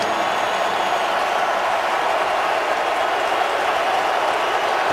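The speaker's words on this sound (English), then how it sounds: "Let's see what the Chargers come up with here as the crowd gets loud" Football stadium crowd noise building to a loud, steady roar on a third down as the Chargers play the Falcons in Atlanta, a dense continuous wash of cheering without pauses.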